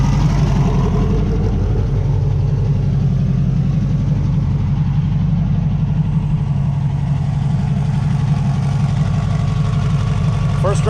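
A turbocharged 1967 Volkswagen Beetle engine runs steadily at a low, even idle, a loud continuous rumble close by with no breaks for the whole stretch.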